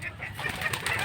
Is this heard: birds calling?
yes